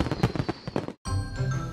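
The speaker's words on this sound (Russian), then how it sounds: "И салют начинается!" Cartoon New Year fireworks pop and crackle in a quick burst of sharp bangs, then a short silence before a fizzing, crackling shower follows.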